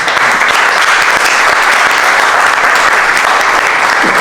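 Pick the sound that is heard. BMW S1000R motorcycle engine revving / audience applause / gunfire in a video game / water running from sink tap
audience applause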